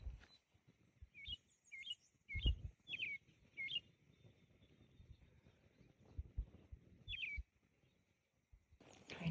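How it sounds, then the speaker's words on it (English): Several birds chirp and sing along a grassy mountain ridge trail, with quick repeated bright calls clustered in the first few seconds and one more later, over footsteps and faint rustling outdoors. "There are so many birds."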